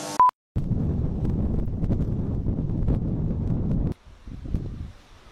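Gusty wind buffets a microphone outdoors, a steady low rumble that cuts off suddenly, then returns in weaker, uneven puffs after a brief beep at the start.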